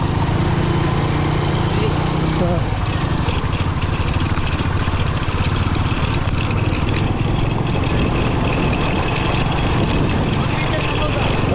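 A machine engine drones steadily near a sugarcane field during harvesting, loud and continuous for the whole stretch, with people talking over it.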